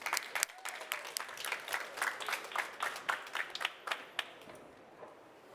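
Applause from an audience at a community talk event, a dense run of many hands clapping that holds steady and then thins out and fades near the end.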